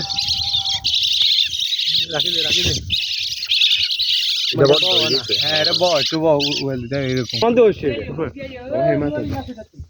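Shrill, insistent high-pitched chirping from baby birds fallen from a wind-blown nest into water runs nearly throughout, overlapped by people talking close by.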